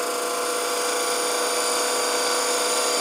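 A continuous, steady whine of a wood lathe turning a wooden coffee scoop, with a constant high-pitched hum and no pauses.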